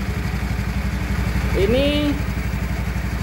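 Automatic scooter engine idling at rest with its rear wheel not turning, a steady close throbbing pulse throughout with a brief tonal squeal partway through.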